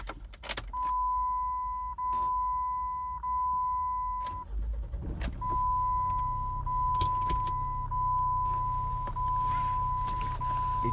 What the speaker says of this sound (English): Let's start it and do a quick drive around.